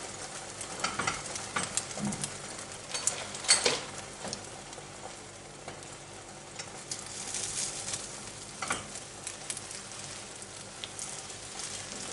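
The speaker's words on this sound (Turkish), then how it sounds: "Şimdi eriyen yağımızın üzerine çırpmış olduğumuz yumurtamızı döküyoruz." Whisked eggs frying in melted butter in a pan for an omelet, a steady soft sizzle with a few scattered crackles and small clinks, quiet and continuous with no voices.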